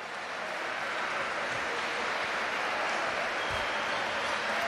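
Basketball arena applause for a Gandia player heading to the bench, a dense, steady clapping from the crowd that stays level throughout.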